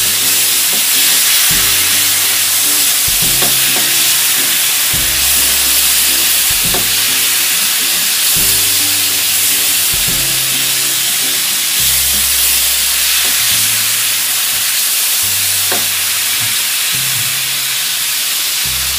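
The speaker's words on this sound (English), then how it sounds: "This is only searing." Fish sears in a hot pan with a steady, loud sizzle and hiss, broken by a few soft bumps and scrapes as the pan or fish is moved, with no talking.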